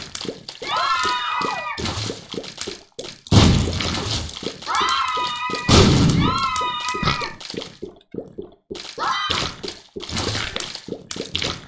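Explosions in The Binding of Isaac, several loud bursts and crashing booms in quick succession mixed with chirpy game effects and other game sounds.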